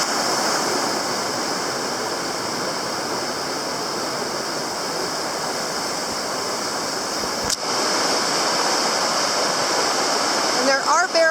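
A waterfall at Mist Cove on Baranof Island, Alaska roars as a dense, steady rush of falling water, loud and close throughout, with a sharp tap midway and faint rustling at the end.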